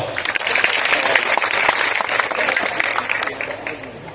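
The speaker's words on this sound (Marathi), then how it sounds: "कार्यक्रम आवडला असेल तर सगळ्यांनी टाळ्या वाजवा" Applause from an outdoor village audience at a Marathi Lavani performance, a dense sustained burst of many hands clapping, near and loud, tapering off at the close.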